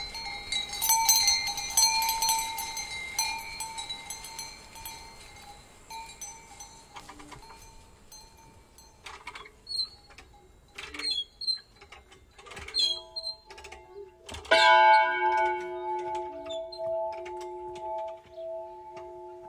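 Outdoor bells at a Portobeseno festival soundscape: small animal bells clank irregularly while chapel bells ring with sustained tonal strikes, some distant and some nearer, over quiet air.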